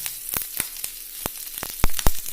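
Curry leaves drop into hot oil in a pan and sizzle and crackle up close, with sharp pops at an uneven rhythm over a steady frying hiss while a ladies' finger poriyal is being made.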